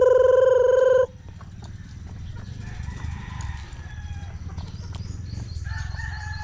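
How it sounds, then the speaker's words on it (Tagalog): A rooster crows loudly at the start, followed by softer clucking of native chickens over a low background rumble. "Yung po mga manok andito."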